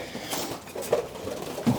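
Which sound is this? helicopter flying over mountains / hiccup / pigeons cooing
pigeons cooing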